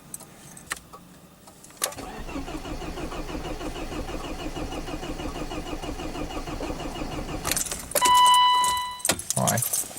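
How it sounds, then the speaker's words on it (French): A car's starter motor cranks the engine in a steady rhythmic churn for several seconds, preceded by a few clicks and followed by a louder burst as it catches, with people talking nearby. "le starter il va bien"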